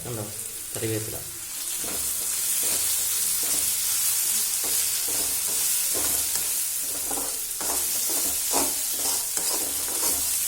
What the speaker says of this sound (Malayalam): മുള്ളങ്കി ഉപ്പേരിയിലേക്ക് കറിവേപ്പില ഇടുകയാണ്